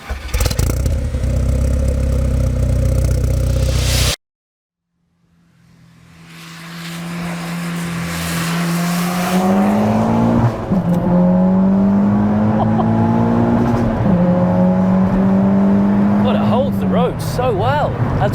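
A 350bhp 2-litre engine-swapped all-wheel-drive Seat Ibiza Cupra roars loudly up close. It comes after a burst of noise and a short silence, then revs rise and fall as the car pulls away and shifts through gears.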